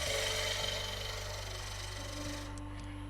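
Skew chisel peeling a wooden handle on a lathe, a steady close whirring hum of the spinning lathe with a continuous cutting hiss throughout, no talking.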